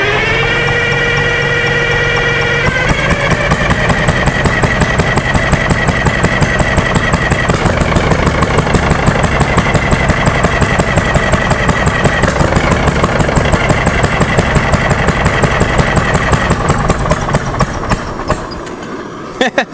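A worn 1940 GM 4-71 Detroit Diesel engine running outdoors after a restart, a loud, close, rapid rhythmic clatter that holds steady throughout, with a rising tone early on and a brief drop near the end.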